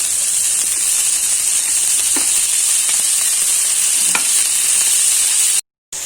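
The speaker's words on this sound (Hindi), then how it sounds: "अब हम इसमें कटी हुई पालक को ऐड करते हैं।" Chopped spinach tossed into a pan of corn kernels sizzles with a loud, steady frying hiss, broken by a couple of faint stirring taps and a brief cutout near the end.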